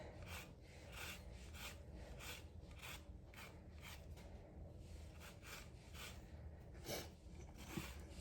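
A lemon is zested in a kitchen for a cucumber, tomato and onion salad, giving faint, rhythmic rasping strokes repeated steadily at close range.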